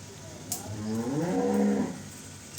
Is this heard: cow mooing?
yes